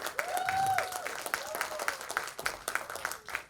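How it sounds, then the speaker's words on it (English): Clapping from an audience at a student event, moderately close, with uneven bursts and scattered claps as the applause fades, while a whistle-like tone and a cheer rise briefly over it. "Huge round of applause for yourselves"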